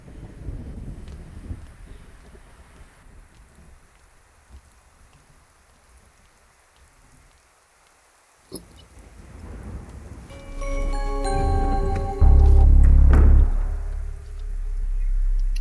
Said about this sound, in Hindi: एक तो बारिश भी नहीं रुक रही